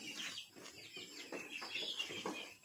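Small farm birds clucking and chirping at a feeding spot, a busy overlapping run of short calls close by and fairly soft, with no talking.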